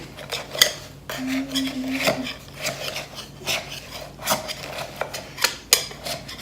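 A knife runs around the edge and centre of a gluten- and dairy-free figgy pudding in its pan, giving repeated close metallic scrapes and clinks against the pan with no talking.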